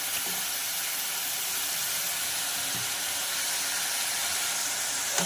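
Ginger-garlic paste sizzles as it fries in a pan for rajma masala, a continuous loud bright hiss that holds steady throughout with no voices over it.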